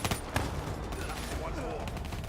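Rapid gunfire bursts crackle through a Call of Duty firefight, sharp shots scattered over dense background battle noise, with voices calling out underneath.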